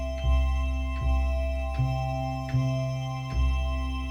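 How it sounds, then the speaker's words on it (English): Synthesized chords pulse in a steady rhythm, about five sustained hits each with a low thump at the start, evenly spaced and prominent. "is a chord machine, which by default would sound like this."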